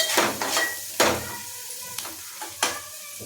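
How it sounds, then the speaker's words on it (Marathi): Ground masala stirred and fried in a pan for shev bhaji: a spoon scrapes and taps against the pan in several strokes over a soft, steady sizzle. "मसाला छानपैकी मिक्स करून घ्यायचं."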